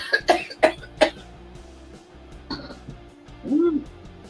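A person coughs in several sharp, close bursts in the first second, followed by a softer throat sound and a vocal noise, with a faint background hum.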